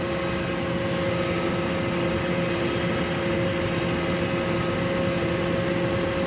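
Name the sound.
small tractor engine pulling heavy load of hay bales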